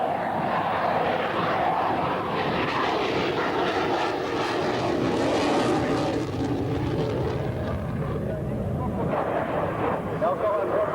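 A fixed-wing airplane roars overhead at a 1993 air show at Cambrai Air Base 103, its engine loud and sustained with a swelling, passing drone, under a French commentator's voice.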